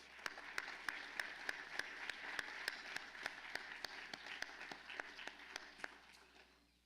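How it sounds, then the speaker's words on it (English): Audience applause for veterans and service members at a North Carolina ROTC roundtable, quiet and distant, with a few distinct sharp claps standing out in a steady rhythm before fading at the end. "Let's give them a round of applause."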